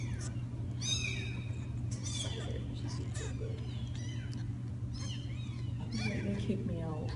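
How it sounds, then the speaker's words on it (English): A young campground kitten gives repeated high, thin meows over a steady low rumbling purr. The sounds are close and intimate, with low background noise throughout. "Guys, he's purring."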